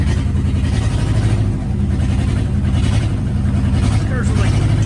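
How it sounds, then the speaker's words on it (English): A 1955 Buick Century convertible with Dynaflow transmission idles steadily with a loud, rumbling exhaust, a continuous low throb nearby with faint talk beneath it. "The exhaust is pretty loud."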